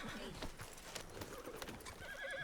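Horse in the Red Dead video game gives a soft, fairly distant whinny amid steady background ambience and faint hoof clops, no talking over it.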